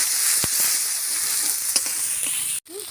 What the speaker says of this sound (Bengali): অল্প একটু সর্ষের তেল এবার মশলাটা আমি ভালো করে কষে নিই